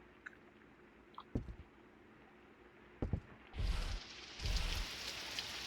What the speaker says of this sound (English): Oh, I love the sound of rain.